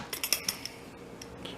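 A metal half-teaspoon measuring spoon clinks against other utensils in a few quick, light, bright taps, close and quiet, with no talking.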